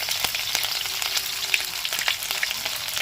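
Chopped green chillies hit hot oil in a pan, giving a bright, crackling sizzle with scattered pops and a brief stir, close and moderately loud with no voices.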